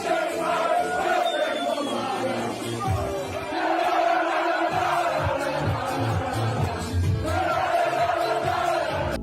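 A large crowd of football fans chanting together in a loud, sustained, rhythmic roar that fills the space, a chant later reworked into a NAFO meme.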